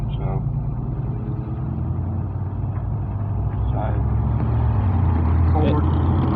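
An old 1950s pickup truck rumbles past with a steady, fairly loud low engine drone that swells slightly toward the end, while voices talk nearby.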